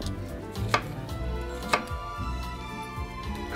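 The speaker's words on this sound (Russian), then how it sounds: "Непременно вдоль, потому что так каждая чешуйка лука гораздо прочнее, чем лук, порезанный полукольцами." An onion is cut lengthwise with a knife on a board, giving two sharp chops among softer steady cutting taps, close and with no talking.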